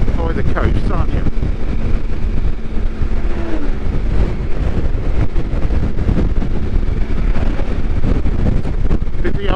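Strong, blustery coastal wind buffets the microphone continuously beside the busy A6 road near Matlock, a loud, rough roar with no clear break.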